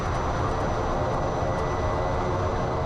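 A turboprop aircraft taxis with its propeller in beta, producing a loud, continuous roaring whoosh that holds steady throughout, with no talking.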